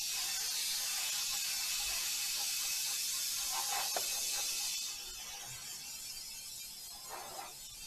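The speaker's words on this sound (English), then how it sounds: "So we're just going to spray." Steady broadband hiss of spraying, probably a pressure sprayer applied near an old tractor, loud and continuous for about five seconds then easing to a softer, lower spray with faint mechanical clicks.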